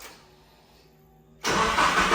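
A Nissan D21 truck engine cranks briefly, then catches at about 1.5 seconds and settles into a loud, steady idle close by, with no talk.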